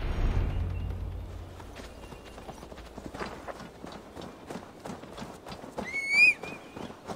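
A horse's hooves clip-clop steadily through a forest in the game Assassin's Creed Valhalla, a rhythmic run of close footfalls ending in a sharp, loud whinny.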